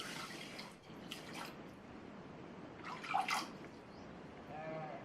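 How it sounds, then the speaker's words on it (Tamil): Water poured from a cup into half a cup of sago pearls while preparing a sweet, heard as faint, brief splashing and trickling in two short bursts over a quiet room background. "இதே கப்லேயே 3 கப் தண்ணியை இதில் சேர்த்துக்கலாம்."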